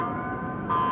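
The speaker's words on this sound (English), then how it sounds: "An alarm?" An alarm sounds in the Astral Chain video game: a steady, loud, tonal siren blares continuously, briefly dipping and then swelling again, with a dense game soundtrack underneath.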